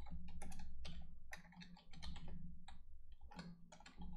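Typing on a computer keyboard during a live web-development walkthrough, with steady bursts of close, crisp key clicks over a low background hum and no talking.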